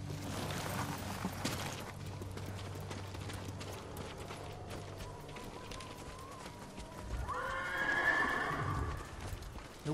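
Horses in the Ghost of Tsushima video game, with hooves clopping and shuffling under a low ambient drone, then a loud, close neigh rising and falling near the end.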